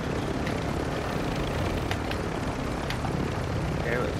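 Helicopter in Call of Duty MW2 DMZ, a steady loud rotor and engine drone filling the whole stretch, with some game noise and voices mixed underneath.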